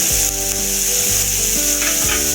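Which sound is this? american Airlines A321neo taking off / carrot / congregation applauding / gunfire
carrot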